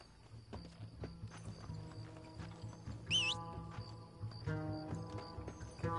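Horse hooves clip-clopping in the video game Red Dead Redemption, a steady rhythmic patter of hoofbeats over an ambient game soundscape, with a brief whinny-like cry midway.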